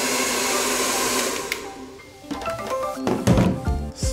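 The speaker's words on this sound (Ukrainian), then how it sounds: "Є столик, фен. Фен потужний." A powerful hotel-room hair dryer at the DoubleTree Resort by Hilton in Zanzibar blows with a steady, loud whoosh for about two seconds, then cuts off and gives way to thunks and handling knocks.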